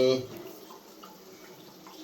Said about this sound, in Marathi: हे गरम पाणी टोपट टाकायचं